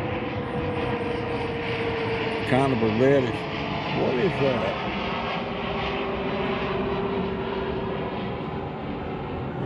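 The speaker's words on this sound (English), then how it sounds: "You don't see jets go over here that low." A low-flying jet plane passes overhead, a steady broad engine roar filling the whole clip while people talk over it.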